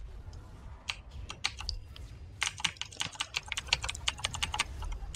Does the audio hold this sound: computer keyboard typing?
yes